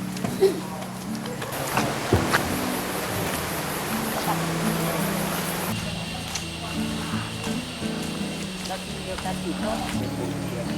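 The Thi Lo Su waterfall is heard from a cool, damp forest path as a constant broad rushing roar of falling water, steady and moderately loud, with faint voices underneath.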